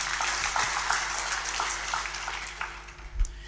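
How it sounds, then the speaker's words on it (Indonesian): Audience applause in a church sermon setting, a sustained wash of clapping that holds steady for several seconds and then tapers slightly, with no talking over it. "Tepuk tangan."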